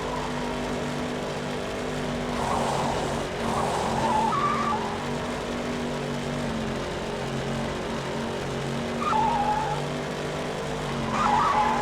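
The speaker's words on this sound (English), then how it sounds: "It'll play the tire screeching sound. Like that." Tires squeal and skid repeatedly in the Cars video game, several drawn-out screeches over a steady engine drone, loud and close, with no talk.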